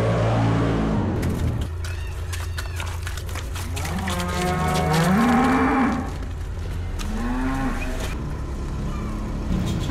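Farm cattle moo close by: a loud, drawn-out moo rises and falls in pitch, followed by a shorter second call, over outdoor background noise.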